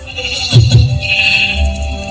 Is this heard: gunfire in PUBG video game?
no